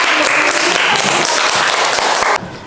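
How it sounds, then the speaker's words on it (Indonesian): Students and teachers in a classroom applaud a presenting group, loud close clapping from a small crowd that fills the room and then stops abruptly near the end. "beri tepuk tangan dulu untuk kelompok"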